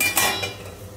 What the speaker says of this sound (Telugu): అప్పుడప్పుడు మధ్యలో ఇట్లా మిక్స్ చేసుకుంటూ ఉండాలండి.